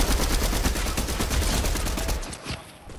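Rapid, continuous video-game gunfire from Fortnite, loud and close, with dense bursts of shots running steadily for about two seconds before trailing off into a few scattered reports.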